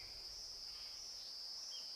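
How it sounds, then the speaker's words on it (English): A cicada sings deep in a forest, a steady, unbroken high-pitched drone that holds constant and fairly loud for the whole stretch, with no other sounds over it. "the cicada breaks the abysmal silence with its deafening song"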